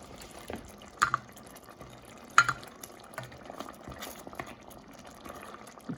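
Thick meatball gravy for Punjabi kofta bubbles steadily in a pan, with soft, continuous simmering and a few sharper pops and plops standing out above the low burbling, close and fairly quiet.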